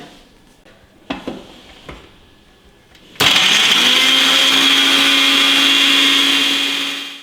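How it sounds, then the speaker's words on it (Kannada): A mixer grinder purees soaked dates and figs, starting with a few knocks and clicks, then switching on abruptly into a loud, steady high-pitched whirring roar that runs uninterrupted for several seconds before easing off. "ಈಗ ಇದನ್ನ ಪ್ಯೂರಿ ರೂಪದಲ್ಲಿ ರುಬ್ಕೊಂಡ್ಬಿಡೋಣ"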